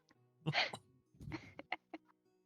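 A quick, sharp burst like a sneeze or throat-clearing, followed by a second rougher burst and a few short breathy sounds, heard close and fairly quiet.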